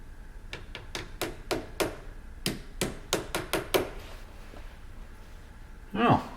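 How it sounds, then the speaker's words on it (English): A machinist's hammer strikes a brass fitting to tap it into place: about a dozen sharp, close metallic taps in quick uneven bursts, followed by a short squeak at the end. "Might have to just give it a little love tap to get it where I need it to be."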